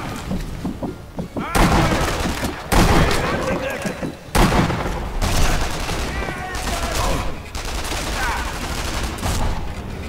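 Dense bursts of sniper fire and booming impacts in the game Sniper Elite V2 pile up continuously, loud and close, with voices talking underneath the shooting.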